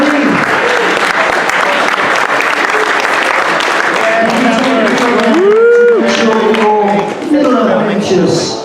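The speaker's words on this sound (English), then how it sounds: "huge round of applause for me." A crowd at a tabletop miniatures gaming event breaks into sustained applause, loud and dense, with voices and cheers mixed into the clapping.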